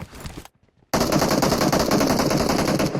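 Automatic gunfire in the mobile battle royale game PUBG Mobile. A short burst comes first, then a pause, then loud continuous rapid fire close up.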